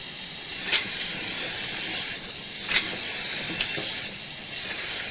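Water from a hose turned down to a moderate flow, a steady broad hiss like spray with a few brief louder surges, continuous and fairly close with no voices.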